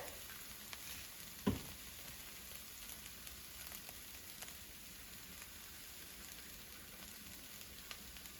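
Riced hearts of palm sizzling steadily in a frying pan, a soft even crackle throughout with one brief clatter near the start; no talking.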